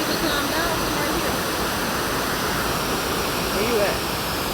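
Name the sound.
waterfall in Bedford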